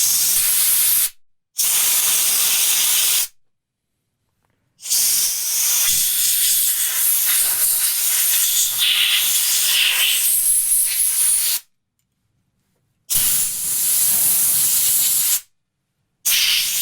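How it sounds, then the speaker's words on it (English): Aerosol cleaner sprayed onto a Stihl BR450 backpack blower's 2-cycle carburetor in bursts: a loud, close hiss repeated three or four times, with brief silent gaps between sprays and no talking. "So we're just going to kind of lightly spray them off."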